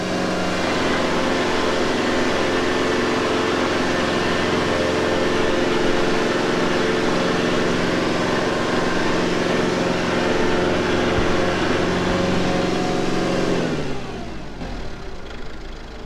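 A Kubota tractor engine revs hard and steadily while stuck in mud, a loud close drone held for most of the clip before dropping back toward idle near the end.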